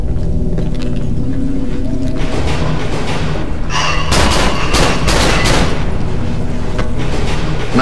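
Gunfire in the Half-Life mod Cry of Fear: after a few seconds of rumbling ambience, several loud, close shots crack out in a quick cluster, followed by dense booming noise.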